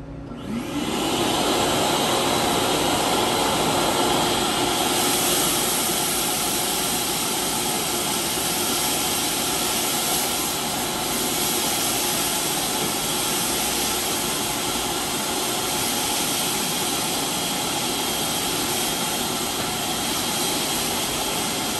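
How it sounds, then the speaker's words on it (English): A vacuum cleaner roars loudly and steadily from start to finish, a constant whooshing motor drone with no talking. "Okay, I'm gonna turn on the vacuum."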